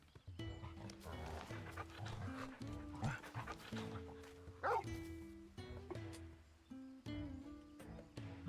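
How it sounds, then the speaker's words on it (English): Wolf pup Torgold in Final Fantasy XVI gives a series of short yips, barks and whimpers, fairly close and moderately loud, with a soft game score underneath. "This is Torgold, a wolf pup raised in the duchy."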